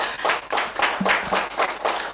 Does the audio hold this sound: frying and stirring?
no